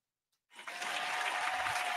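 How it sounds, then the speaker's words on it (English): Canned applause sound effect triggered by a button during an online comedy competition show, starting abruptly after a brief silence and holding as a steady, dense crowd clapping wash. "Applause button."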